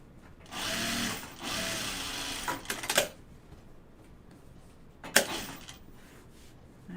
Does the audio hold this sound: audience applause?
no